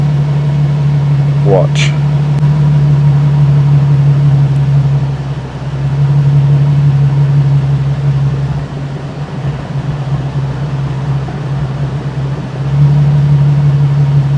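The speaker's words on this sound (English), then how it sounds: "This is what it's idling at the moment, and you see that drop?" A Nissan 370Z idles with a steady low hum that sags briefly as the rpm drops, then recovers, while a person talks nearby.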